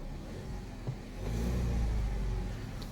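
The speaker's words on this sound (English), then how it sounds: "So far we like everything about this car except for the sound that motor's making." Used car at an auction with an odd motor noise, its engine idling low then swelling into a brief rev, a deep muffled rumble heard fairly faintly from nearby.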